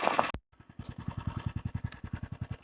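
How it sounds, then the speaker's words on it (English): A rotary tiller cultivator engine idles at nominal revs after working soil, a sharp click followed by a steady, evenly pulsing putter at close range. "Now the cultivator has to cool a little bit on the nominal revs,"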